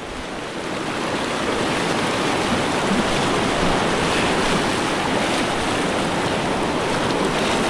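River water rushes steadily and loudly at close range in a broad, continuous wash with no speech, as at a waterfall spot on a river.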